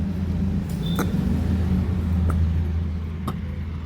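A car passes on National Highway 160 in rainy weather, a steady low road rumble holding for the full few seconds with a few faint clicks on top and no voices.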